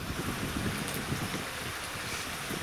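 Steady broadband wind buffeting outdoors at a riverside camp in Ingram Valley, a constant rushing roar with gusty flutter and no voices.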